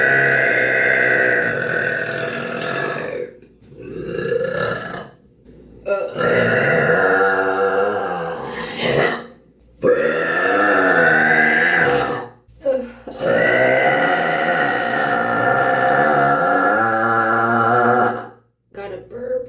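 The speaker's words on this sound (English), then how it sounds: "got a burp." A woman lets out a long series of deep, loud, drawn-out burps, each lasting a few seconds with short gaps between, close to the microphone.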